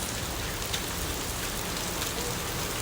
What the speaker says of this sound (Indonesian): di Mekah ada hujan es